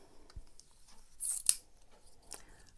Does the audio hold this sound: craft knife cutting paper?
yes